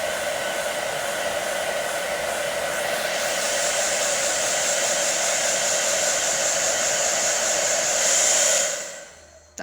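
Hair dryer blowing continuously at close range, a steady airy roar that shifts slightly in pitch partway through before cutting off at the end.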